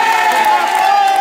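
A crowd cheering and applauding at a Miss and Mister contest in a French retirement home, a short continuous burst of loud shouts and clapping with voices mixed in.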